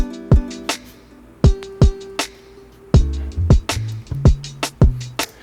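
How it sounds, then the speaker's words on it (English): A hip hop beat with a punchy kick drum hit twice in quick succession, layered with short tonal stabs and crisp hi-hats, repeating in a steady loop. "what I did is I just took this stab and I took this kick and I doubled it up"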